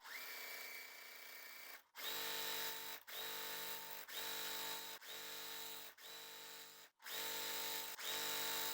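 An electric sewing machine chain piecing small quilt pieces for a Valentine's Day table topper, running in steady whirring bursts of about a second each, broken by brief stops.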